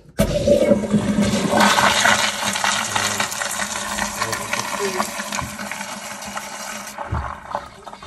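A Sloan Regal flushometer toilet flushes after its valve is opened with a flat screwdriver, a loud continuous rushing of water that starts abruptly, holds for about seven seconds, then tapers off with faint trickling.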